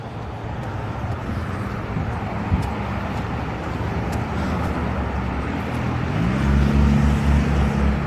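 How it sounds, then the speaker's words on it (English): An unusual low engine drone rises out of steady New York City street traffic noise near the end, a rough tonal hum under the passing roadway rumble, without talk. "Is that a normal engine sound?"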